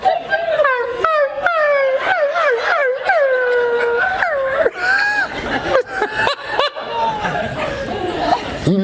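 At a stand-up comedy show, a person imitates a dog with a run of howling, yelping barks that rise and fall in pitch, followed by laughter and chuckling.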